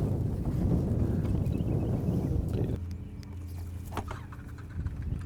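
Wind gusting across Truman Lake while fishing for crappie from a boat, a steady close rumble buffeting the microphone that eases partway through, with low engine-like hum underneath.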